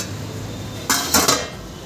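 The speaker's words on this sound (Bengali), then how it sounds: "আমি শাকটা নেড়ে তোমাদেরকে দেখিয়ে দিচ্ছি।" Red and green stem amaranth greens with shrimp being stirred in a pan, heard as two or three brief metallic clanks of a utensil against the pan over a steady background hiss, with no voices.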